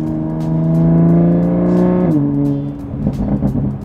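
A loud car exhaust revs hard with its valves open, a sustained engine roar that drops in pitch and breaks into crackling burbles and pops as the throttle lifts.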